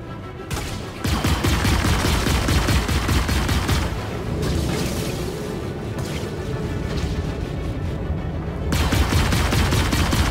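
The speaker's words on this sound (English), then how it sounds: "hose it down with full auto gunfire until it dies" Sustained full-auto ship cannons in the space game Star Citizen, a Gladius or Arrow fighter, hammering out dense rapid bursts that fill the soundfield, with brief dips between long loud volleys.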